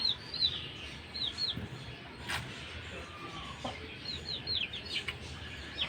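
Chickens cluck softly at a moderate distance, with scattered chirps and peeps from ten two-month-old chicks and small birds over a quiet outdoor hum.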